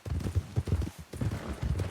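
Horses' hooves clip-clop at a steady walking rhythm in Red Dead Redemption 2, close and clear, with a brief pause midway.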